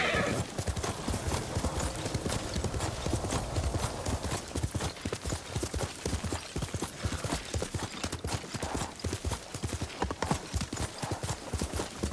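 Steady rhythmic clip-clop of horse hooves on a hard surface in the video game Ghost of Tsushima, close and continuous, with a horse neighing partway through.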